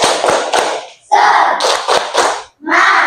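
A class claps hands in a rhythmic chant pattern, short bursts of clapping mixed with children's voices calling out together, loud and close with brief gaps between phrases.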